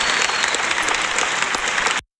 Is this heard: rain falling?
no